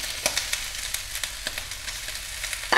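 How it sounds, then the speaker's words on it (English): Onions and paprika stirred as they fry in a pot, a steady soft sizzle with light scraping taps from the spoon at irregular intervals, close by and moderately loud. "And then we stir this for quite some time."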